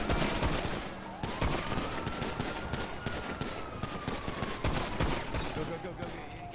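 Rapid bursts of video-game gunfire crackle one after another in a dense, close volley as a car chase and arrest shootout unfolds, with voices mixed in.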